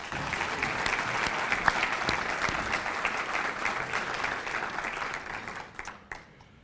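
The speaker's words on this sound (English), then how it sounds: "Let's give another round of applause for our academic senate." Sustained applause from a seated crowd at a student association inauguration ceremony, many hands clapping steadily before thinning out and tapering off near the end.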